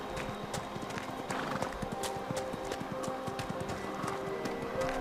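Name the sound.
hooves of a goat running in Dragon Age Inquisition video game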